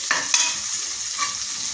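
Whole spices fry and are stirred in hot oil in a pan for paneer pulao, giving a steady bright sizzle with a couple of sharp scraping clicks from the spoon near the start.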